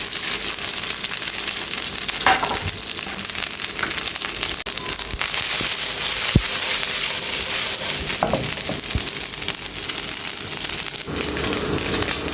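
Rice and golden-brown fried garlic sizzle steadily in a pan, with a few scattered stirring scrapes and soft knocks throughout.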